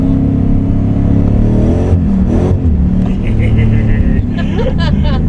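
A V8-swapped Nissan S14 200SX drift car with a 1UZ engine pulling in second gear, a loud, close, continuous engine drone rising and shifting under someone talking from inside the car.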